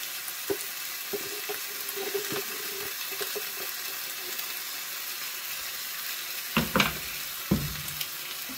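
Meat frying in a pan with garlic gives a steady close sizzle and hiss, with a few scraping stirs and clinks near the end.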